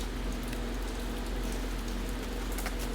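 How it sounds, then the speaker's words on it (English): Steady rain falling outdoors, a constant wash of patter with a low hum underneath and no voices. "it's still rainy out there"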